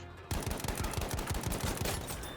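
Automatic gunfire in a shooter video game, a fast rhythmic burst of shots starting abruptly and continuing steadily, fairly close and moderately loud.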